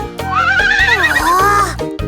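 A horse in a children's farm nursery song gives one loud, close whinny, a long wavering neigh that rises and falls for nearly two seconds against a quiet musical backing.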